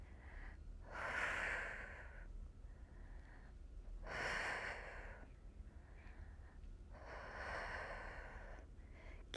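Three slow, forceful exhales come through the nose and mouth during a floor exercise, close and breathy, with quiet gaps of breathing between them.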